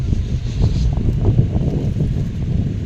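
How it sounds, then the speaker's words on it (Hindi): Wind blows outdoors among trees and plants, a steady low rushing and buffeting across the microphone with faint rustling, continuous and fairly loud throughout. "मस्त हवा चल रही है, देखो कितनी बढ़िया हवा चलने लग रही है।"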